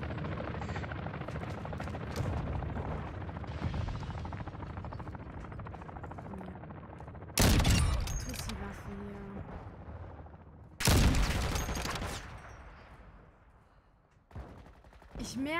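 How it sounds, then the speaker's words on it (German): Bursts of automatic gunfire in Call of Duty Modern Warfare II, loud and close, with two heavy volleys cutting through a steady droning game background and someone talking over it. "Ich werde beschossen!"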